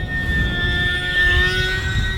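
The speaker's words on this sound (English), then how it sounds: "For a small plane, it's not too whiny." A UMX Pitts S-1S mini RC biplane running a brushless motor on 3s power in flight, a steady whining buzz with a slight rising pitch, moderately loud over outdoor background rumble.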